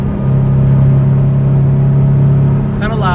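Steady engine drone and low rumble inside a Scion FRS cabin cruising on the highway in fifth gear at about 4,000 RPM, a constant loud hum with a brief higher whine near the end.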